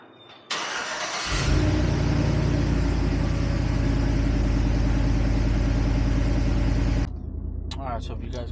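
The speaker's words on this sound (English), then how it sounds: "let's get a cold start" GMC Sierra truck engine cold-started with a sharp crank and catch, then a loud steady idle rumble that continues before cutting off, with a voice briefly heard afterward.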